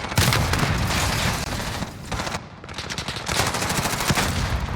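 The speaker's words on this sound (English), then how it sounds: "Grenades coming out everywhere as players are dropping." Grenades and gunfire sound in a dense, continuous barrage during a competitive multiplayer video game match, loud bursts and blasts overlapping with brief dips between volleys.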